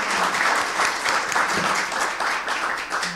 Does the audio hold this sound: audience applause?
yes